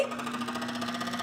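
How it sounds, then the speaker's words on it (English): A rattling air conditioner fan whirs with a steady hum and a fast, even buzzing rattle, close and continuous. "Is that the fan doing it?"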